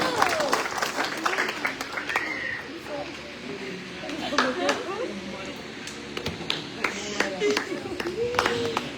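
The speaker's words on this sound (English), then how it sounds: "Give a round of applause" Audience at a church session applauding, scattered claps and taps rising and thinning, somewhat distant, with someone talking over the room and crowd chatter mixed in.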